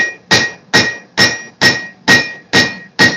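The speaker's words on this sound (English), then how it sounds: "The treadle hammer is really nice for keeping it in shape." Heavy ringing hammer blows strike metal in a steady, even rhythm, about eight strikes close up with no talking.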